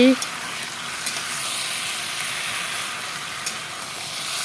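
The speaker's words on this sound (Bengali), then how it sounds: "এখানে আলু বেগুনগুলো দিয়ে তারপর মশলার সাথে ভালো করে কষিয়ে নিয়েছি।" Potato and eggplant pieces fry with spices in a pan for a vegetarian curry, giving a loud, continuous hissing sizzle with a few faint stirring knocks, heard up close.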